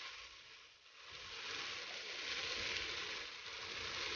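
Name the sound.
meat broth poured into hot pot, sizzling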